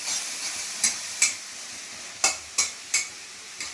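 Spice paste with turmeric and chili powder frying in a pan for a spicy soybean and potato curry, a steady close sizzle broken by several sharp scraping strokes of a stirring spoon.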